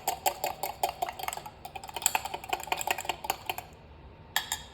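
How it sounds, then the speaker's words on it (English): A spoon or whisk clicks rapidly against a bowl while ranch seasoning is stirred into melted butter, a quick, light, steady clatter close by that stops briefly before one last tap. "You're gonna mix this up a little bit."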